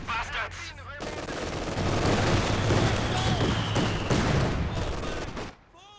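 Machine gun fire from LMG Grenadiers in a video game battle, dense overlapping bursts and booms building into a loud sustained fusillade, with voices audible underneath.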